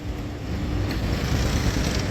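Two tractors hauling full carts of sugarcane rumble along a rural road, a steady broadband engine and road noise with wind buffeting, continuous and fairly close, with no talking.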